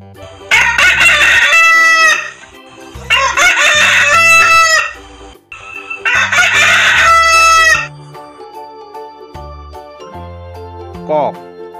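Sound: rooster crowing

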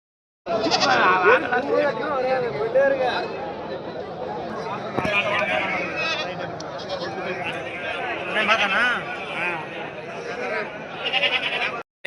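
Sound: goats bleating at Mecheri goat market

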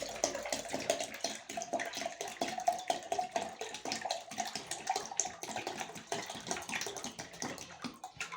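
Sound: pouring out water from olive brine

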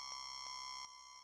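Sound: downsampled high sawtooth ringing synth effect

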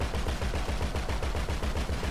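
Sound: gunfire in the Grand Theft Auto V video game

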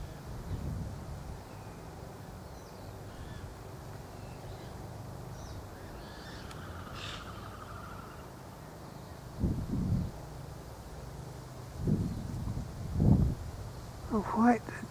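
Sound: wind blowing outdoors

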